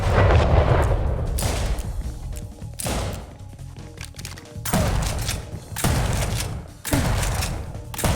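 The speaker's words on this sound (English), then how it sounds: "once I empty my 6 bullets into this lunatic, it's just a matter of a few rounds from the shot" Revolver gunshots in the video game XIII fire in loud, booming bursts separated by short pauses, with game noise filling the gaps and no talking.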